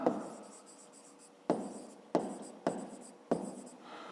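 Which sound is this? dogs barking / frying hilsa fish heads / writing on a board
writing on a board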